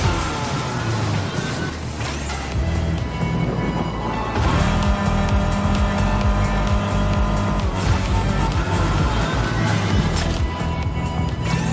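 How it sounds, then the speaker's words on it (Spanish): A racing car engine roars and revs continuously at high pitch in the video game Fortnite, with brief tire squeals and a steady, loud, busy mix of motor noise throughout. "Vamos acelerando."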